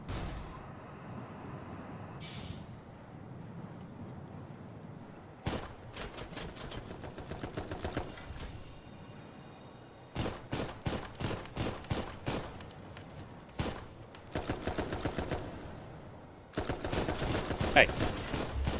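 Bursts of rapid mech weapon fire in the video game Dolls Nest come in loud repeated volleys separated by quieter gaps, with a person talking over parts of the action.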